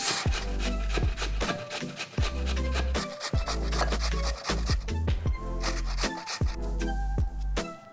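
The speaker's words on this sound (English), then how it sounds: "And then I want to grate these into like a tea towel or a cheesecloth" Peeled potatoes are grated into a tea towel or cheesecloth for savoury Asian pancakes. Steady, rhythmic rasping strokes repeat close up for the whole stretch, with a soft thud at the end of each pass.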